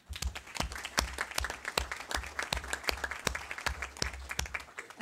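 People at a school district board meeting clapping, a modest group producing distinct, irregular claps at moderate distance.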